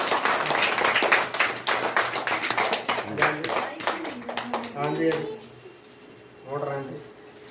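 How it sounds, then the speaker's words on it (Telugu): A small group claps briskly and unevenly for a fifth-grade boy's homemade rice mill school project, the claps close and sharp, then a voice talks as the clapping trails off. "అందరు క్లాప్స్ కొట్టండి ఫస్ట్ ఒకసారి."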